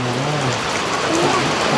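Steady rain falls and patters on surfaces in a broad, even hiss, with faint low tones beneath and no clear talk.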